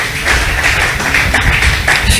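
A church congregation applauds, a dense, steady patter of many hands clapping at close range that keeps an even rhythm throughout without letting up.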